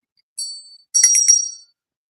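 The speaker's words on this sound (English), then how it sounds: "we're going to ring the other bell" A cheap brass hand bell rings twice, a single clear ring followed by a longer, brighter double strike with bright sustained tones, close and alone in a quiet room.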